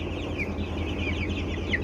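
Chickens cluck and chatter steadily around an outdoor feeder on a small African farm in winter, a constant close flock murmur with occasional sharper squawks.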